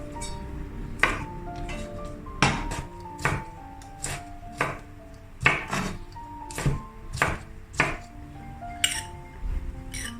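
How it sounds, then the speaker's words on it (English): Kitchen knife chopping long beans into short sections on a board while preparing Indonesian village-style fried rice, about a dozen sharp separate chops at an irregular pace, close and clear, with faint clinks between them. "Cut the long beans to short sections."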